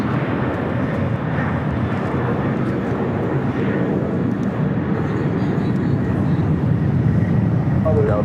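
Airliner accelerating down runway 24 Left for takeoff at Los Angeles International Airport, a steady, loud, broadband jet engine roar that holds level throughout with no break, with faint speech mixed underneath.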